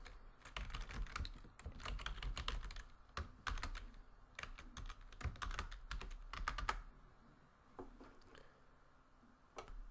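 Rapid clattering keystrokes on a computer keyboard while Java code is typed, arriving in bursts with short pauses, close and fairly quiet, with no one talking.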